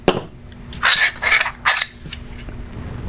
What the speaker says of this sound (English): Pull charging handle out.